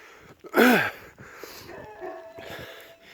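A dog gives a single sharp yelp, followed by quieter rustling and faint vocal sounds in the background, in a snowy village.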